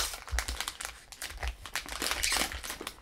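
Crinkly plastic wrapper of a Terry's Chocolate Orange bar with cranberry being carefully opened, slightly melted in warm weather, giving close, continuous crackling and crumpling bursts for about three seconds.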